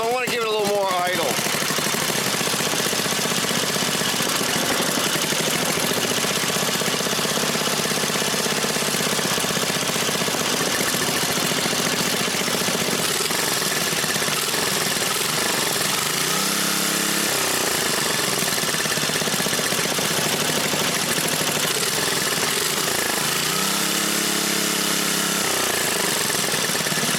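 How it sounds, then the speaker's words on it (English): Briggs & Stratton 5hp horizontal flat head engine idling as it warms up, a loud continuous close rattle running throughout with slight shifts in pitch. "Let's let it warm up. I want to give it a little more idle."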